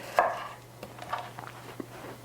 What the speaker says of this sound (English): I'm just doing a rough chop on them